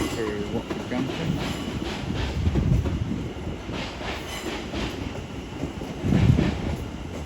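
A London Overground class 710 electric train, unit 710-375, runs at London Euston with a steady rumble and faint wheel clatter, while voices speak over it.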